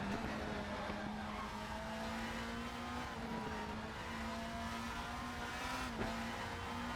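Volvo WTCR touring car in the Raceroom racing game holds a steady, loud engine drone through a corner exit on Slovakia Ring, with a brief shift or tire chirp near the end and no voices.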